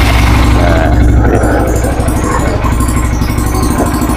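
A Honda Mega Pro motorcycle engine runs loud and close, a steady throbbing idle with slight rises in pitch as the throttle is worked, while people talk over it.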